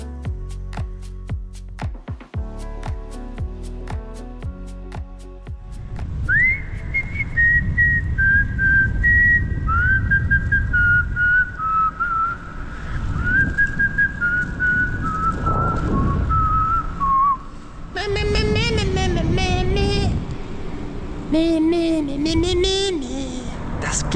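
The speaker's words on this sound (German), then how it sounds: "Ich pfeife den ganzen Tag, weil es mir Freude macht." A man on a long-distance bicycle journey whistles a melodic tune, holding long sustained notes and then quicker warbling phrases, close and clear after some brief clattering at the start.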